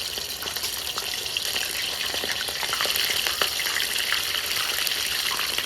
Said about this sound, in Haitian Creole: ma frit koden nan kounya